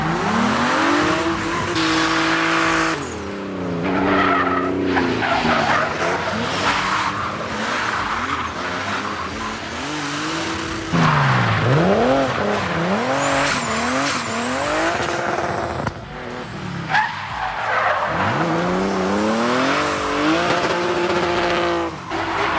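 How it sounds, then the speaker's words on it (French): Drift cars tearing along a mountain road in France, engines rising and falling over long stretches of screeching, squealing tires, loud and continuous with a car close by throughout. "j'entends déjà les voitures de drift arriver"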